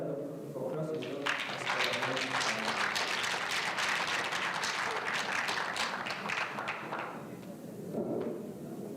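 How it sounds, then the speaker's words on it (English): Audience applause at a public engagement event, a sustained burst of many hands clapping that swells quickly and fills most of the stretch, with voices mixed in underneath before it tapers near the end. "We can give them another round of applause as well."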